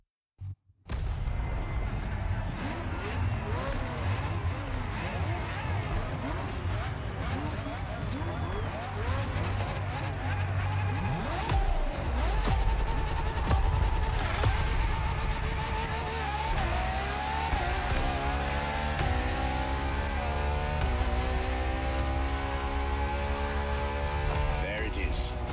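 A Ferrari LaFerrari supercar engine in the racing game The Crew Motorfest, a loud continuous engine roar that rises and shifts in pitch as it accelerates, with revs climbing steadily through the latter half.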